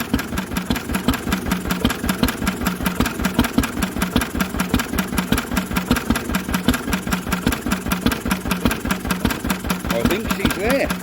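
An old Lister engine, running for the first time in 40 years, idles with a steady rapid thumping rhythm that continues throughout at moderate loudness.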